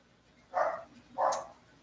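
Two short dog barks in quick succession, moderately near, with quiet background between them.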